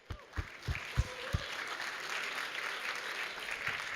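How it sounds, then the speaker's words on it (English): A conference audience greets speakers walking onto a stage with a few sharp early claps that swell into steady, fairly faint applause. "Big applause."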